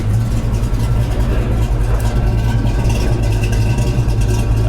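A 1991 Ford Mustang LX engine with a mild cam runs at a steady, lumpy idle close to the microphone, a low rumble with a slightly uneven beat throughout.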